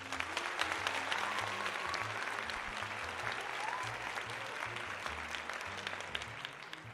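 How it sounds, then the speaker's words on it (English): Canned applause effect on a call-in comedy show, a dense crowd clapping steadily for about seven seconds with a faint low hum or voice underneath. "I'm forgetting to do a round of applause for call-ins"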